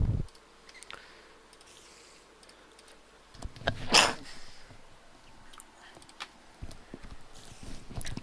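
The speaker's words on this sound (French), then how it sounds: "excusez-moi pour du petit éternuement que je viens d'avoir" A small human sneeze, one sharp broadband burst standing out at mid-clip over quiet room noise, with soft clicks and shuffling around it.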